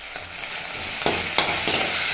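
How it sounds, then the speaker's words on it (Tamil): Ginger rice mixture with turmeric and salt sautéing in a pan: a steady, close hiss of frying broken by a few sharp scraping strokes as it is stirred, with no talking. "சேர்த்து நல்லா வதக்கிட்டு இந்த மாதிரி நல்லா வதங்கிறது நல்லா வாசனையாக இருக்குது"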